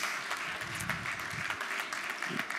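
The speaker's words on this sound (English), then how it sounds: "Give him a round of applause, everyone." Audience applause for a keynote speaker at an AI conference afternoon session, steady moderate clapping across the whole moment with a few stronger bursts, no voices over it.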